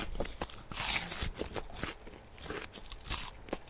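Teeth crunch through the crust of super-crispy, multiple-fried Korean fried chicken, with close, repeated crackling bites and chewing heard alone.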